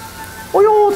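Beef searing in a pan, edges pressed to the hot surface, a sudden loud sizzle bursting in halfway through after a quieter lead-in.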